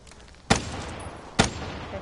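Gunfire from Call of Duty Black Ops 3: two sharp, loud single shots about a second apart, each a bright burst that decays quickly, over a low game ambience.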